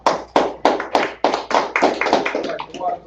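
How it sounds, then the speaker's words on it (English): An audience at a Sabbath service claps steadily in a quick, even rhythm, a dense run of sharp hand claps that are close and fairly loud, with a murmur of voices beneath. "All right, clap it up."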